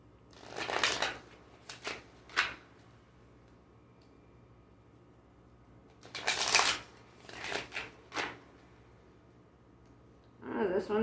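Kali oracle cards are shuffled in several quick, crisp bursts, with short pauses of near silence between them in a quiet room.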